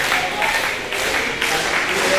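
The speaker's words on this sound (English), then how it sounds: "Getting that crowd revved up." A wrestling event crowd applauds and cheers in a continuous roar of clapping, with a commentator talking over it throughout.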